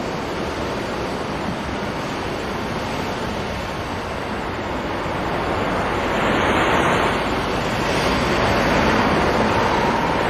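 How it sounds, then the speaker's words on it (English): Wind-driven swell rolls across the open Pacific in a steady, broad ocean roar of waves and surf that swells louder toward the end, with no voices. "Driven by the wind over the wide Pacific, the swell builds."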